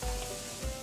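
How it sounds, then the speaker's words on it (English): Corn, tomatoes and mushrooms sizzling in a cast iron skillet right after a splash of white wine goes in, a brief steady hiss of frying with no talk. "Next we'll deglaze with a little white wine."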